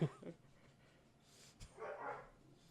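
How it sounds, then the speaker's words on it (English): A dog gives a couple of short, faint barks in a quiet room, with brief pauses between them. "I like dogs barking."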